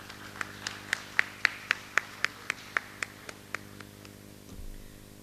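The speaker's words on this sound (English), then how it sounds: "Let us put our hands together in welcoming all these dignitaries." Sparse audience clapping greets dignitaries walking onto the stage at a women entrepreneurs' launch event on the SIT campus in Tumkur; about fifteen distinct, evenly spaced claps sound fairly close, slowing and fading toward the end.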